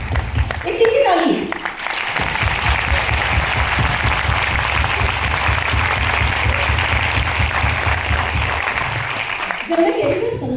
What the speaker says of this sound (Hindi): एक तीसरी ताली।